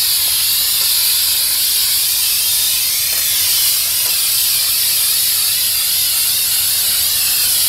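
Flex Seal spray can coating a backyard waterfall basin in a Wisconsin garden, a continuous loud, close hiss of aerosol spray held steadily for several seconds with no pauses or talk.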